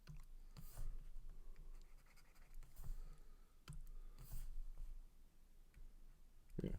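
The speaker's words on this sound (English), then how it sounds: "Let's erase that." A pencil eraser rubs over a handwritten math problem on paper, giving soft, scratchy strokes in short bursts with a few sharper clicks, close and fairly quiet, with no talking.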